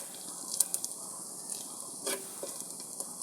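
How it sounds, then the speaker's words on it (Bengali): Catla fish frying crisp in a pan, a steady hissing sizzle with scattered sharp pops and spits, close and moderately loud, no speech. "কড়া করে ভেজে নিলাম"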